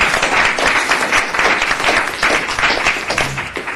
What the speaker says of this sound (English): Sure, we can all applaud that.